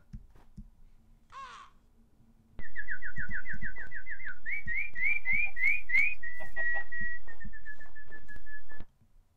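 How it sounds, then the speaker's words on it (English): Birds in the video game Minecraft give a bright, rising series of whistled chirps, repeated notes stepping upward and then a held tone, loud and close over faint background clicks. "Oh! Oh, there's freaking birds."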